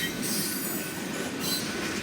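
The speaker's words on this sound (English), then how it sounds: "this train was pretty long, so I'm gonna cut my footage" A long freight train with hopper cars rolls past near Rosenberg, a steady loud rumble of wheels on rail with faint squealing and rhythmic clatter throughout.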